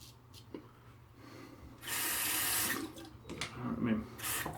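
Water runs from a tap during a shave, a steady rushing that swells for a couple of seconds and then returns in bursts, with close breathing and snorting near the sink.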